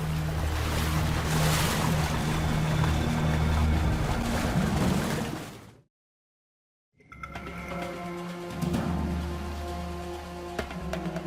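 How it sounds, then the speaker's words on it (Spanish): Icy Hudson River water sloshing and rushing into the cabin of a ditched passenger airliner on Flight 1549, a loud, continuous churning wash that cuts out briefly to silence and then returns with splashing and dripping, with no talk. "El agua helada del Hudson entra a la cabina."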